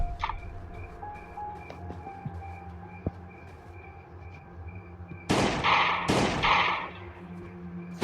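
Two loud, broadband bursts of gunfire from weapons in the survival video game Last Day on Earth ring out back to back near the end, over a quiet game backdrop with faint tones and beeps.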